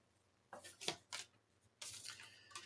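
A few quick riffling, papery bursts sound close up as tarot cards are shuffled in short bouts with brief gaps between them.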